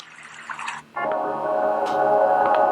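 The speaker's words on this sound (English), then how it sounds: "Another sort of water stream setting." An EyeOasis 2 eye massager switches to its water stream sound setting, a continuous gurgling, trickling flow with a few drips that follows a brief earlier sound, steady and fairly close, with no voices.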